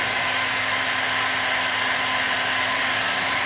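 Heat gun set to 450 degrees blows a loud, steady rush of hot air onto woodgrain film on a Nissan Patrol Y62 dashboard, a continuous close roaring whoosh with a faint motor whine.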